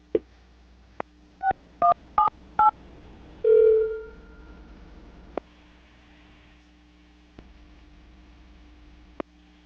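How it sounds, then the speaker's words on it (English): Telephone keypad tones as a call is placed: a string of short, evenly spaced beeps followed by a longer tone, then a few faint clicks on an otherwise quiet line. "gonna call her right now, get her on the phone"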